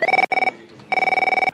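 A telephone rings in two bursts of a steady electronic two-tone ring, loud and close, split by a short gap.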